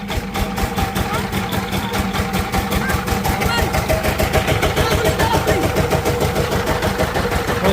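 A diesel power tiller engine starts and runs up, its rapid regular firing pulses thudding loudly and close, settling into a steady chugging rhythm.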